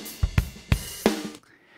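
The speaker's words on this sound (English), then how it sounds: "you can hear how beat 2 sounds really nice with that reverb." Snare drum hits in a beat, the snare on beat 2 carrying a short plate reverb tail; several sharp, close drum strikes in a steady rhythm, stopping abruptly and leaving a brief decaying wash.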